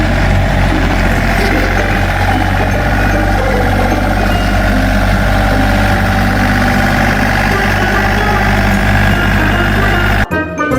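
A toy tractor engine idles in a steady, continuous drone that stays loud and even throughout, cutting off abruptly near the end.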